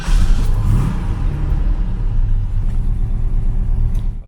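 A Ford F250 V8 pickup truck pulls away, its deep engine rumble rising under acceleration and then holding a steady, close drone for several seconds.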